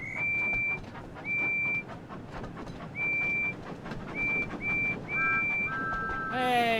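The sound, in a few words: Thomas the Tank Engine train whistle, video game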